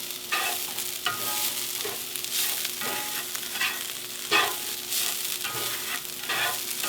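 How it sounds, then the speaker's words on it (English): A utensil scrapes and stirs cauliflower rice around a dry cast iron skillet, giving repeated rasping strokes with a soft steady sizzle underneath, close and clear with no talking. "So I'm just stirring it, and then once again I'm going to spread it out into my skillet."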